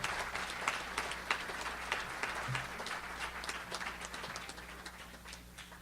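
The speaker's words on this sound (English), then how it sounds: "Round of applause for the selection committee" A ceremony audience at a high school athletic hall of fame induction applauds the selection committee, steady clapping of moderate loudness with individual claps audible throughout and slowly tapering.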